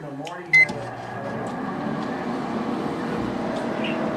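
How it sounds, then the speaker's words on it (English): Microwave oven heating milk in a home kitchen, a short beep followed by a steady low mechanical hum that runs continuously, with a person speaking briefly at the start. "Take a microwave and make milk."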